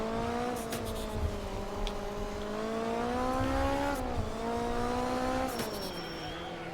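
Rear-wheel-drive, high-powered race car in a top-down Xbox racing game, its engine holding a steady buzzing drone that climbs and dips in pitch as it revs, with brief tire squeal bursts, continuous and close throughout.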